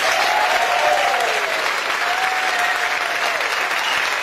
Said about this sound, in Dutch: Mag ik een grandioos applaus voor wat deze mannen hier neergezet hebben.